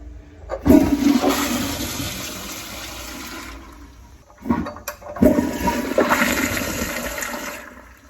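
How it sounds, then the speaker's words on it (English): A household toilet on a line with a sewer stoppage flushes loudly and close, a rushing gush of water that fades, then a second flush surges up again, with no talk. "Partner went inside, flushed the toilet, so let's check it out."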